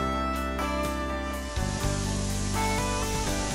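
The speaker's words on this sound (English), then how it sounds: "Now I'm spraying one of two of the front panels for this cabinet surround project" A spray gun sprays stain onto oak cabinet panels, giving a steady, loud, close hiss that runs throughout with a brief shift partway through, with no voices.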